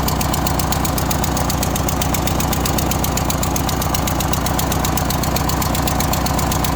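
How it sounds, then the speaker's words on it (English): A small MTD opposed-twin mower engine with an exhaust leak and unbolted mufflers idles loud and close with a rapid, steady popping putter, a harsh ticking exhaust rhythm that never changes. "That's an exhaust leak."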